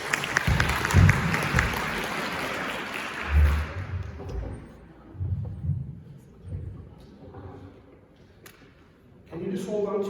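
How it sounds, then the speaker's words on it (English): Applause from a conference keynote audience for a volunteer, a burst of clapping at the start that fades within a few seconds, followed by scattered quieter sounds and a voice at the end. "Give her a round of applause."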